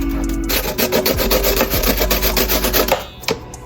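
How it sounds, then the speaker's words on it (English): Half an onion being grated by hand into a meatball meat mixture produces fast, rhythmic scraping strokes, loud and close, repeating steadily for about three seconds before stopping. "we're going to grate the other half of the onion into our meat mixture"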